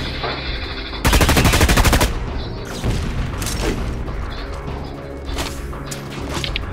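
Machine gun fire in the sci-fi shooter DUST 514, with a loud rapid burst of automatic shots lasting about a second, followed by scattered blasts, impacts and mechanical clatter of battle, with no talking.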